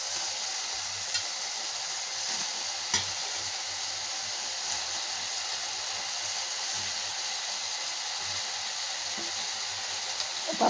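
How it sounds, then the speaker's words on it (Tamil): Okra sautés in a pan with salt, giving an even, steady sizzle throughout, with a few faint clicks and knocks of stirring. "வெண்டைக்காய் நல்லா வதக்கணுங்க"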